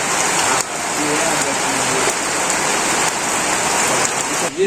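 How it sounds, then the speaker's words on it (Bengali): Steady rain beats on a village roof in rural Bangladesh amid a windy storm, a thick unbroken patter close to the listener with a brief dip near the start and end. "বৃষ্টি আর হাওয়া আইছে"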